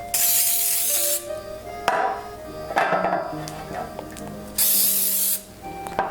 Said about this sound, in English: So I'm going to spray it down with a little bit of Pam spray first